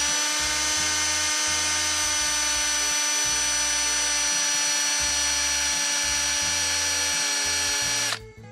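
A cordless drill drives a Maxchock stabilizer wheel chock tight on an RV, a loud steady whine with pulsing low tones, stopping abruptly at the end.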